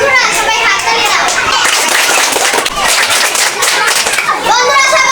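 Children clapping hands together in a group, a dense, continuous wash of claps mixed with young voices calling out, loud and close throughout.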